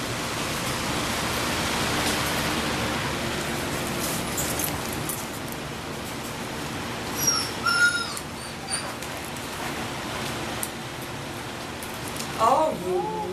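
Labrador puppies playing, giving a few small whimpers and yelps over a steady rushing background noise, with a person talking near them.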